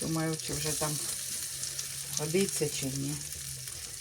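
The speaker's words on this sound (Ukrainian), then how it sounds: "І так будемо жарити, покажу." Steady hissing sizzle of food frying in a pan, with someone talking over it at close range.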